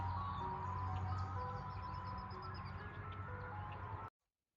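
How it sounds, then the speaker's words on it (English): An ice cream truck passes outdoors, its looping chime melody steady and fairly loud over a low engine rumble, cutting off abruptly near the end. "There goes your ice cream truck."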